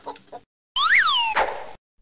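A cartoon hen squawks in the 2000 Norwegian PC game Vazelina Hjulkalender: one loud rising-and-falling cluck, followed by a short plop-like burst, after brief soft sounds at the start.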